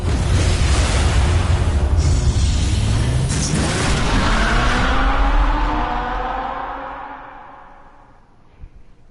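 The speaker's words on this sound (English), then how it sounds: "And it sounds like a rice burner from Fast and Furious." The Batmobile in the Batman Telltale video game revs loudly with a roaring engine surge, then pulls away and fades into the distance, leaving a brief soft thump at the end.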